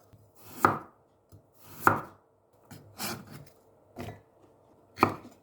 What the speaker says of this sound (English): We need 1 piece of carrot which is cut diagonally.